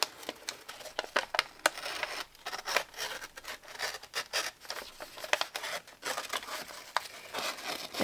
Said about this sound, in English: I'm going to cut this picture out right here too